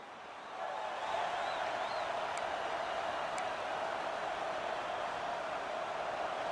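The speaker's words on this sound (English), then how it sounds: "The Buckeye crowd alive on third down." A stadium crowd of Buckeye fans roars on third down in the EA Sports College Football video game, a steady, dense wash of cheering noise that swells at the start and holds throughout with no commentary over it.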